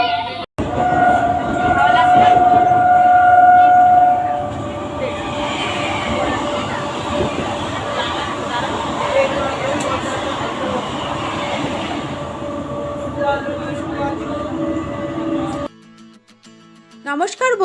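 From inside a moving passenger train, a loud steady rumble of wheels and carriage fills the air, with a tonal whine early on, voices murmuring underneath, and the noise dropping away abruptly near the end.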